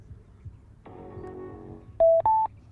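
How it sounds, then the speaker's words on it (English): A Bluetooth speaker built into a cooler powers on: a soft click-hum, then two short rising electronic beeps, close and clear, against a faint background. "And the Bluetooth speaker, all you're gonna do is turn this thing on."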